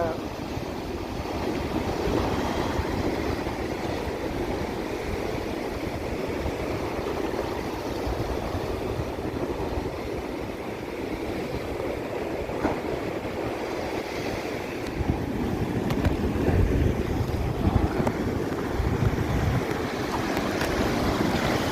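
Steady roar of rough, storm-driven sea waves and surf at Point Pedro during a cyclone, loud and continuous, with heavier surges toward the end and a faint voice underneath.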